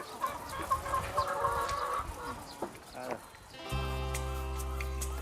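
Chickens cluck on a Korean farm during egg collection, a busy flock under narration, before a steady low mechanical hum takes over near the end.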